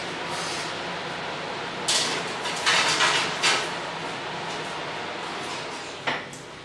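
A baking tray holding an edible print is slid into an oven, giving a few close metallic scrapes and clunks over a steady background hum, then one final short clack.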